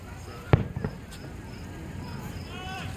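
A single loud Independence Day firework explosion booms, followed by a couple of fainter pops, then a low murmur of distant ambience with a soft whistle near the end.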